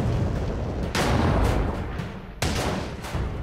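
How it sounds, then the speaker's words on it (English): 88mm anti-aircraft guns firing in a World War II desert battle against advancing Matilda tanks: loud, heavy booms, one near 1 s and another near 2.4 s, each trailing into a rumbling decay over a constant roar. "Rommel deploys his 88mm anti-aircraft guns in a defensive line and orders them to fire at the advancing Matildas"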